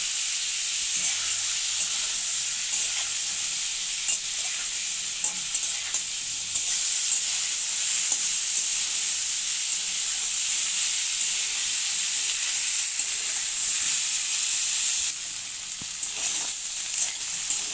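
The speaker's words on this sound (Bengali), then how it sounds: "এবারে ফুলকপিগুলো ভেজে নেব।" Cauliflower sizzles steadily in hot oil, a bright continuous hiss with occasional stirring scrapes, close and fairly loud throughout.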